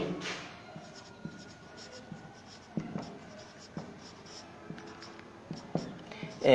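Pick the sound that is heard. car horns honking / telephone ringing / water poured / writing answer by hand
writing answer by hand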